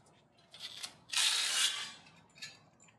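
Ratcheting wrench tightening a bolt through a go-kart steering knuckle, a quick run of close, faint clicking with a brief louder burst in the middle and a few scattered clicks after.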